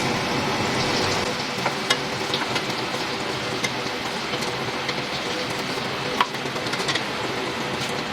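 Paneer pieces fry in a pan with a steady, dense sizzle and a few sharp spits and clicks of the pan, with no talking.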